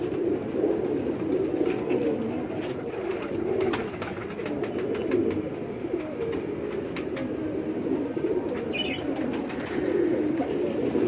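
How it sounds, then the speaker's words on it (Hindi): A striped male pigeon coos steadily and close by, its low rounded calls repeating without pause over faint background noise. "नर कबूतर है।"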